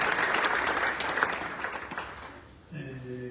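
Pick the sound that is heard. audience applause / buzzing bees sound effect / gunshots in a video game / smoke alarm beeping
audience applause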